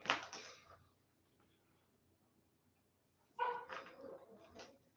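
A dog barks in two short bursts, needing to go outside: a cluster of sharp barks at the start, then a quiet pause, then another run of close barks and yips, with no talking.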